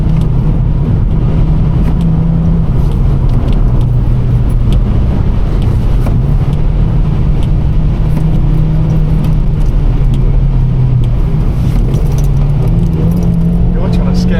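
Vauxhall Corsa engine droning steadily from inside the car at speed, a low continuous hum with slight pitch shifts as it accelerates, under casual conversation between occupants.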